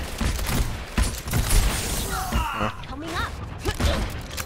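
Gunfire in an Overwatch-style team shooter, a dense, loud clatter of overlapping shots and impacts mixed with game effects, with a player's voice faintly in the mix.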